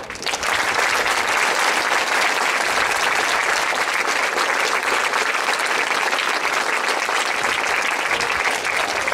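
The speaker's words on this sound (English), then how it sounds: "Let's give one more applause to the veterans." Students from sixth through twelfth grade applaud veterans at a school Veterans Day ceremony: a dense, steady wash of many hands clapping continuously and loudly for the whole stretch, with no voices standing out.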